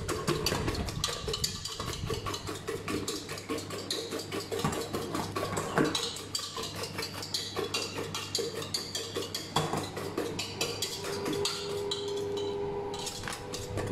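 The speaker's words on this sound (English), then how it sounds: "make sure it's boiling and then keep turning as you whisk" Rapid, steady clinking of a whisk beating against a bowl over a boiling water bath, for dark chocolate cake, continuous and close, with a low hum underneath.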